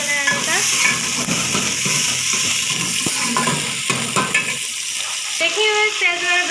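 Sliced onions frying in oil toward golden brown, a strong close sizzle with stirring scrapes and clatter against the pan, the hiss easing slightly before picking up again, with faint voices partway through.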